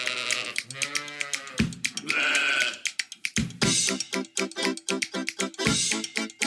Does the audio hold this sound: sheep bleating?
yes